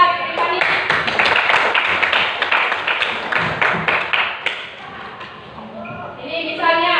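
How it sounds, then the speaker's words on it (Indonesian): Classroom applause for a student named Tiffany, a few seconds of brisk clapping from a group, fading out as a voice starts speaking. "Oke, kasih aplaus buat Tiffany"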